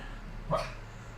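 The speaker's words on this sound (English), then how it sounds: "That's my dog barking in her sleep." A sleeping dog lets out a single soft, muffled bark, brief and faint against a quiet indoor background.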